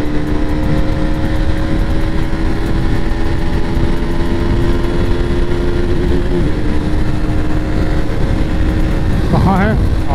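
During a top-end race between a KTM Duke 200 and a Yamaha R15 V3, a motorcycle engine holds high revs near the rev limiter. It is a loud, sustained, buzzing drone that stays steady throughout.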